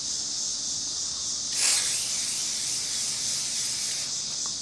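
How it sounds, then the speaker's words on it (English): A can of WD-40 is sprayed onto a clean towel, giving one short, sharp hiss burst that rises over a steady background hiss, with no voices. "I'm going to take a clean towel and I'm going to apply the"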